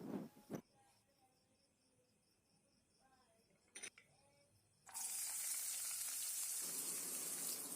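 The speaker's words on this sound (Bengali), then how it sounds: "তেল গরম হওয়ার পর দিয়ে দিচ্ছি পেঁয়াজ কুচি," Chopped onions drop into hot oil in a kadai for Bengali masoor dal tadka, bursting into a loud, steady sizzle after scattered clinks and scrapes of a utensil.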